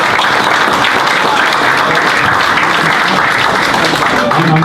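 Loud, sustained audience applause after a science talk at a Science on Tap event in Flathead, dense and continuous clapping from a full room throughout.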